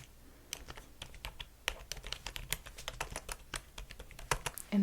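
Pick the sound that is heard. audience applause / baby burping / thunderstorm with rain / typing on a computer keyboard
typing on a computer keyboard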